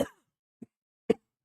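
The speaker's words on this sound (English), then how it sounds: "Excuse me while I cough." A person coughs close by, three short separate coughs: a fuller first one, then a faint small one and a sharper final one, with silence between them.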